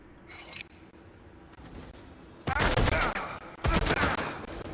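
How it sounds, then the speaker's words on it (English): Gunfire aimed at the player in the System Shock remake, sparse faint activity at first, then two loud bursts of rapid shots, each lasting about a second or more, close and harsh. "What's shooting at me?"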